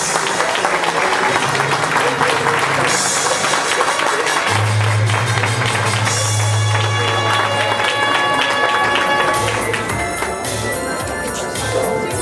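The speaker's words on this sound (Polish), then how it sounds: "Jeszcze raz ogromne brawa dla pani Małgosi." An audience at a women's gala in Olsztyn applauds long and loudly, a dense wash of clapping with a low hum underneath and occasional voices mixed in.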